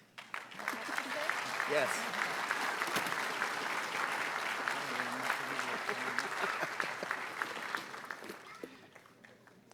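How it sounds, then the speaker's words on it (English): An audience at a police merit awards ceremony applauds in a long, sustained round that fades near the end, with scattered voices and a brief spoken word over the clapping. "let's give our award recipients one more round of applause"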